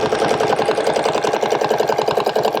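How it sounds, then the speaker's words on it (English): A quilting sewing machine stitches along a template, a loud, close, steady rapid mechanical chatter that runs continuously without a break. "I am now going to stitch from A"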